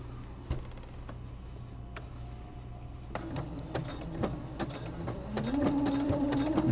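Sewing machine stitching the crossover seams of a jock pouch on a sportbrief, running slowly with uneven clicks and taps that build into a louder, steadier whir toward the end.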